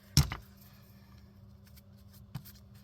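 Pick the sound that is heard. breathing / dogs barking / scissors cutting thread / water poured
scissors cutting thread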